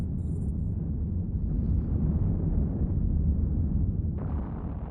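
Focused wave bombs detonating in Eve Online during a bomber fleet drop, heard as a continuous heavy low rumble of explosions that swells partway through and brightens near the end, with no talk.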